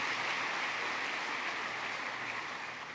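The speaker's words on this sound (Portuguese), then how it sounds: "Você poderia então aproveitar, inclusive, dar um aplauso a essas pessoas essa manhã?" A church congregation applauding, a dense, even sheet of many hands clapping that slowly fades slightly over a few seconds, with no voices over it.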